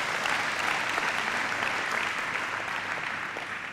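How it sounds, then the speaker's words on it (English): A church congregation claps together during a worship service, a dense, steady wash of hand claps lasting several seconds at an even level before easing slightly at the end. "Can you give a mighty hand clap to the Lord?"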